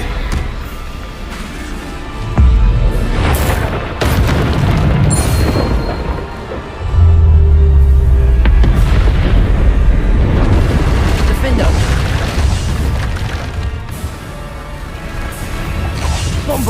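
In Hogwarts Legacy combat, the Bombarda explosion spell goes off as heavy booming blasts and crashes with whooshing swells, layered with game voices and effects throughout.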